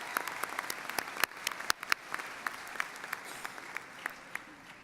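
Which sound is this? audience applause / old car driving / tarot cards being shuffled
audience applause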